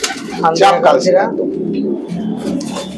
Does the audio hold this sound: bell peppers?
no